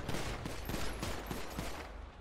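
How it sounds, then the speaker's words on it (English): Rapid bursts of gunfire crackle in a GTA roleplay game, repeated shots landing in a quick, uneven rhythm over a busy, loud background. "Don't shoot. She's shooting."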